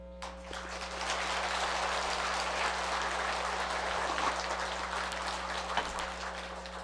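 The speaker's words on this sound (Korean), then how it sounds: "박수가 오후가 더 많네요." Steady, fairly soft applause from an audience at a Buddhist dharma talk, continuous throughout over a constant low electrical hum in the hall.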